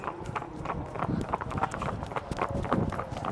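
Horses walk along an unpaved village track, their hooves clip-clopping in a steady, close rhythm under faint background noise, with people talking in between.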